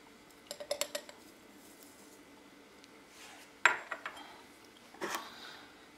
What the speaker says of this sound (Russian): Накрываем ее крышкой.